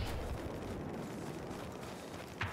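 A deep, rumbling blast from an explosion in the video game Battlefield 4 rolls on as a steady low roar, ending with a brief sharper pop near the end, without talk.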